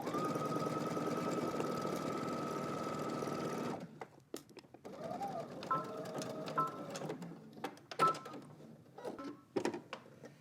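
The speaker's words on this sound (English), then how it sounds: "we're gonna stitch from the bottom up to where that notch is. We're gonna back stitch and stop." A sewing machine stitches a seam with a backstitch on a Simplicity S9778 garment, running as a steady, close motor whir for about four seconds. It then stops, leaving scattered clicks and fabric handling.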